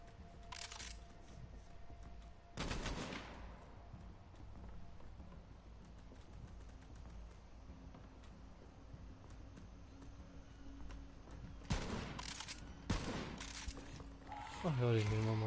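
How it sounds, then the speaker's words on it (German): Sniper rifle fire in Borderlands 3, a handful of sharp, loud single shots spaced apart, one early and a quick cluster near the end, over quiet game ambience while someone talks. "Boah, die Sniper ist aber geil."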